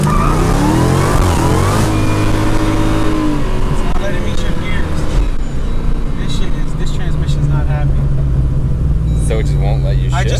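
Dodge Challenger Hellcat with a Trackhawk AWD swap driving and shifting late, engine revving up then dropping through gear changes, loud and close, with people talking over the roar.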